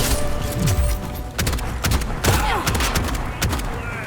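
Shotgun blasts in the video game Bright Memory Infinite fire in a rapid, irregular volley of sharp, loud booms with mechanical clacks between shots, fighting among bamboo.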